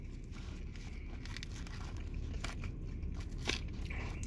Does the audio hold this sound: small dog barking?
no